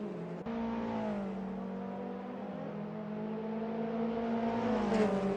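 Touring race cars in a TCR league round accelerate hard out of a corner, a steady loud engine drone rising in pitch across the whole stretch, with several cars blending together.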